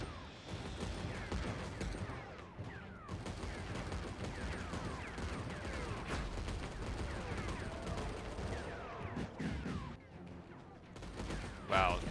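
Cannons firing in the Mecha Knights: Nightmare mech game, a dense, continuous barrage of rapid heavy shots and mechanical clatter, loud and sustained throughout, with a brief lull before a final louder burst.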